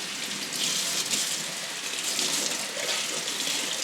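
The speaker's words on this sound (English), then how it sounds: "So I'm just going to give it some water." Water poured over a potted orchid sitting in a glass vase, a steady splashing trickle close by that runs evenly for the whole stretch with no voices.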